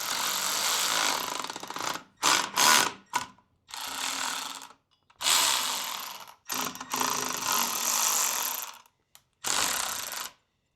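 A ratchet wrench tightens turbo bolts on a built Subaru STI engine, working around a coolant line; close, loud rapid clicking bursts broken by short silent pauses.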